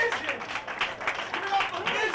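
An audience at a comedy roast claps steadily for a comedian, a dense, even patter of many hands with voices mixed in underneath throughout.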